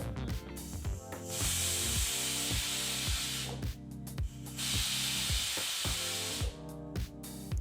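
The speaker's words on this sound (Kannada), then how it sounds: "ಈಗ ಕುಕ್ಕರ್ ಎರಡು ವಿಸಲ್ ಬಂದಾಯಿತು" A pressure cooker cooking spinach rice lets out two long, loud steam hisses, each lasting a second or two, between stretches of rhythmic pulsing background tones.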